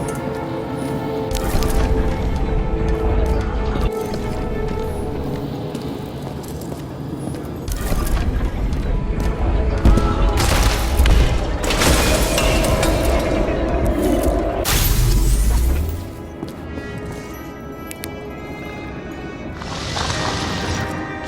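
Gunfire and heavy booms in the video game Nobody Wants to Die, loud, close bursts and crashes repeating over a low droning game ambience, with a sharp blast near the end before a quieter tail.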